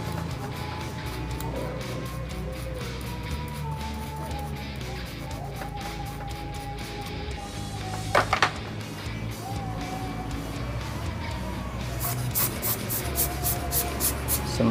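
A small brush scrubs the port of a laptop during cleaning, producing a steady, close scratchy rasp that runs throughout, with a brief sharper burst midway and quicker strokes near the end.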